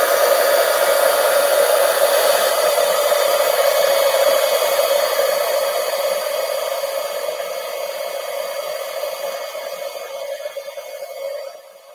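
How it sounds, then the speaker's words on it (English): A heat embossing tool blows hot air onto a handmade card, a steady, close whooshing drone with a constant motor hum that fades gradually toward the end and then cuts off. "I'm going to heat emboss this."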